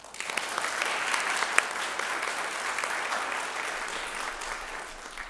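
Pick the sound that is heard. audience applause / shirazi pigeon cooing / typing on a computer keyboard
audience applause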